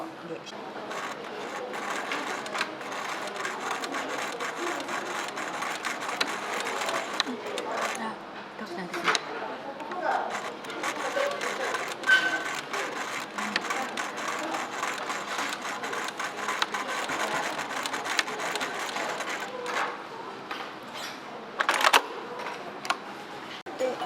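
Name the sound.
sewing machine stitching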